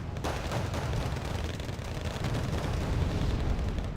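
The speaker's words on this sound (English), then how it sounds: "Napalm, quite a bit of damage" Napalm strike explosions in the game Wargame Red Dragon roar as a dense, continuous fiery rumble with crackling bursts, loud and sustained throughout.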